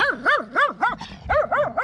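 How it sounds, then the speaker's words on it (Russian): A dog barks at close range in a series of about seven sharp, evenly paced barks with a brief gap near the middle, heard alone without any talking. "Господи, тупорылая собака на меня задолбала, смотрите."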